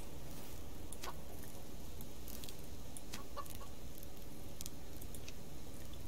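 Chickens clucking in the survival video game Subsistence as they are herded into a chicken house, a steady layer of clucks and scattered higher calls over constant background noise, no talking.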